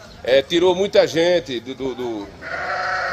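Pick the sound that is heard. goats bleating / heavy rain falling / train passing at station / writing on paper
goats bleating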